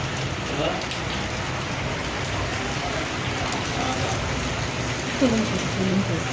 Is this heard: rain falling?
yes